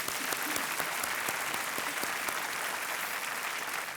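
Studio audience applause at a televised quiz show, a dense steady roar of many hands clapping that holds at full strength through the whole stretch without a break.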